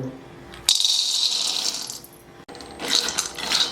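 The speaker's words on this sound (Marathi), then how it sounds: "मोठी वाटी एक शेंगदाणे घालू" Dry peanuts tumble into a pan from a large bowl for roasting, two bursts of loud rattling patter with a brief gap between.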